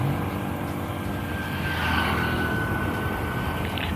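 An NWOW WSP electric bike ridden at full throttle gives a steady, loud rush of wind and road noise with a faint high motor whine running unchanged throughout.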